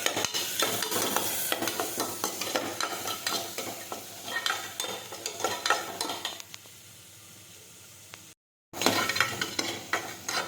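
Yard-long beans sizzle in a pan while a spoon stirs and scrapes in repeated strokes, close up; the sound thins out and stops briefly before resuming.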